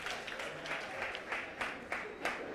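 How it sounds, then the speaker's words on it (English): An audience at a fan quiz game show applauds the contestants, a soft, fairly distant patter of clapping with repeated swells throughout. "Round of applause to our very sporting contestants."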